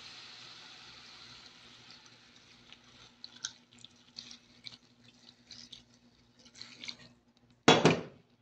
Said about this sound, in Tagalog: Palagyan natin ng konting tubig.